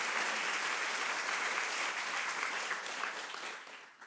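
Audience applause at a public conversation event, a continuous patter of many hands, moderately faint, tapering off toward the end.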